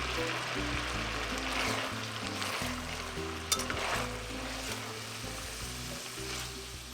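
Green beans sizzle steadily in a pan as bourbon goes in, a continuous close hiss and crackle with one brief clink midway, over a low musical backing.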